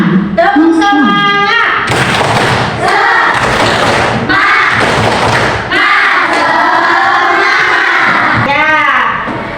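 A class of children performs the tepuk semangat clapping chant in a classroom, loud rhythmic group claps and thumps mixed with shouted voices throughout, close and energetic.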